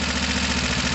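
A Gilera DNA 125 scooter engine idles steadily after a carburettor and intake change, choke off, with a close, even low drone and a faint irregular knock running through the whole second.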